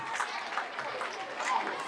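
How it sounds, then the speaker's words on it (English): A class of children at a school oral health session claps together in a brief, dense patter of hands that carries a steady, moderate loudness throughout. "Clap for him."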